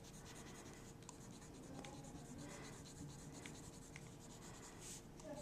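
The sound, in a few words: colour pencil shading lightly on paper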